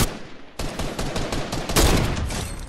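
Video game gunfire cracks out in rapid dense bursts, loud and close, with a short gap before a sustained volley.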